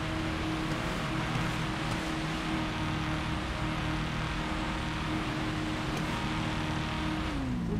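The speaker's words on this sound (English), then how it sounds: "Maybe I warm my tires up a little bit, that help." An LS-swapped Mustang in GTA 5 revs steadily and loudly to warm its tires, a continuous engine drone sustained throughout with no break and no talk over it.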